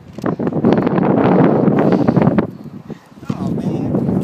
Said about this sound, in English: The wind is kind of blowing, whistling.